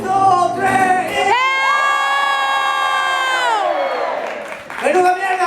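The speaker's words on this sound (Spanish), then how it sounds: "que se oiga, por favor, un grito fuerte a la de tres" An audience at a live Anda Ya show in Valencia lets out one long, loud, sustained collective shout on a count of three, with crowd noise before it and a brief lull after it before the crowd stirs again.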